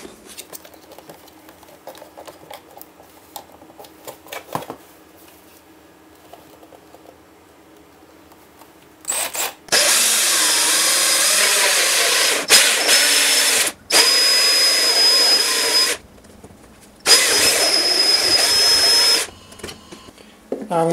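A power drill bores through a piece of wood backed by a scrap block to prevent tear-out, for a steampunk lamp built from a Kodak Brownie Six-16 camera box; three loud close bursts of drilling follow a quiet stretch of shop noise.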